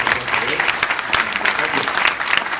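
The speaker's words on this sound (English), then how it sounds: "please give a Houston kind of applause for today" Audience applause fills a Houston welcome address by the consul general, a dense, steady wash of many hands clapping at close range throughout.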